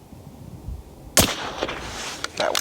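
A single sharp rifle shot cracks loudly near the mic through a $60 scope setup at an outdoor range, followed by a short ringing tail and faint scattered noises.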